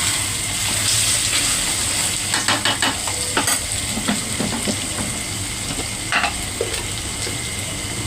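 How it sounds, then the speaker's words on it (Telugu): Chicken deep fries in a pan with a loud continuous sizzle, punctuated by scattered stirring scrapes and clinks from close by. "బాగా ఫ్రై అయ్యే వరకు ఫ్రై చేసుకోవాలి చికెన్."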